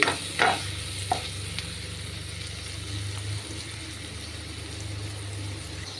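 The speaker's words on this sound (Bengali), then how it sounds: "দুটো তেজপাতা, শুকনো লঙ্কা। এরপরে এখন আমি নাড়িয়ে নিচ্ছি।" Bay leaves and dried chillies frying in oil sizzle softly and steadily while a spoon stirs them, with a couple of sharp scrapes against the pan near the start and a low hum beneath.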